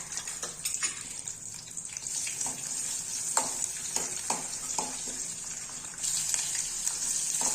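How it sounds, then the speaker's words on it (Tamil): Small shallots and garlic cloves sauté in a pan for a Tamil medicinal kuzhambu, a steady hiss of frying with scraping stirs and light clinks throughout, growing a little louder near the end, with no talking. "ஒரு கைப்பிடி சின்ன வெங்காயம் இருபது பூண்டு பல்லு இதை நல்லா வதக்கி கொடுத்துக்கலாம்"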